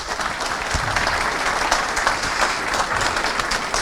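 Sustained audience applause at a French fire-service debrief on tactical fires, dense steady clapping from a crowd filling the whole stretch at even loudness.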